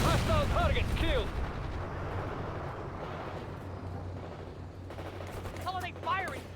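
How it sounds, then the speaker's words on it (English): Rapid machine-gun and rifle fire crackles through a World in Conflict battle, dense bursts layered over a low rumble of combat, with synthetic radio-style voice callouts heard over the shooting. "Set up that machine gun!"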